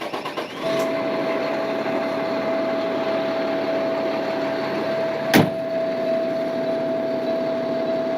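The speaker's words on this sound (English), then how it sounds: "you can actually proceed to the startup of the truck itself" A water truck's engine turns over and settles into a steady, loud idle with a constant whine, one sharp clank partway through, alone without talk.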